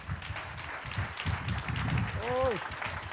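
A church congregation at a Friday evening service in Barquisimeto, Venezuela claps together in a steady, dense patter that runs the whole stretch, with a voice talking and calling out over the applause.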